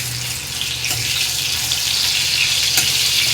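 Onions fried until reddish-brown in a pan with tomato being added, giving a steady, close sizzle with a hiss and crackle that runs the whole time, no talk over it.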